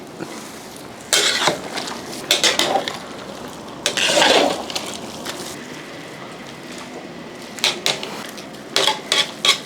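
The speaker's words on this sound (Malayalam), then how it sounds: "ഇതെല്ലാം കൂടെ തിളച്ചതിന് ശേഷം ഒന്ന് ഇളക്കി കൊടുക്കുക." Intermittent bursts of scraping and clattering as a spoon stirs beef for pickle in a pot, separated by quieter stretches of low background noise.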